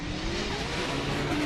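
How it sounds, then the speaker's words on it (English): The Achilles Radial Nissan S14 drift car roars at a sustained high rev leaving the start line, a dense, loud engine drone with a slowly rising tone and a gritty tire-and-exhaust rasp throughout. "Achilles radial S14 leaves the start"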